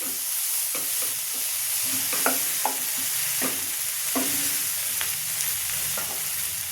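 A spoon scrapes and taps against a pan at an uneven pace while cabbage, potato and peas with pickle spices sizzle softly underneath; no one speaks.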